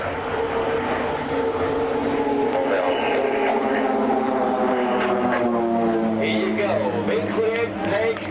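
PC-7 team aircraft flying a display at the East Fortune airshow in Scotland, a loud continuous engine drone with shifting pitch as the planes pass, heard under a commentator talking over a public address.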